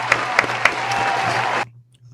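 A short burst of applause, a sound effect of steady massed clapping with a few sharper claps at the start, cutting off abruptly into near silence with a low hum underneath.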